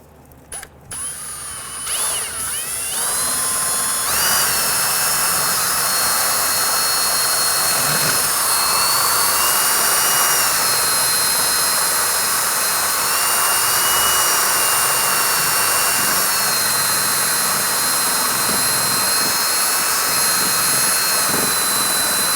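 A power drill spinning a strip of 400-grit sandpaper whines loudly and continuously with a high, steady spinning tone, starting after a few brief clicks and running without pause.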